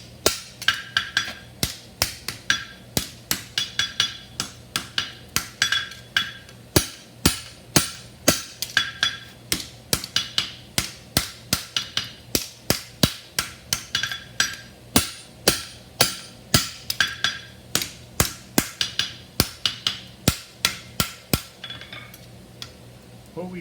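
A blacksmith's hammer bumps and upsets steel stock during a forging exercise, striking in a steady, evenly spaced rhythm of sharp ringing blows with no talk over it.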